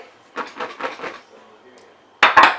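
Vegetables are tipped onto a separate roasting tin with two loud, close metallic clatters at the end, after a few soft murmured sounds in an otherwise quiet kitchen.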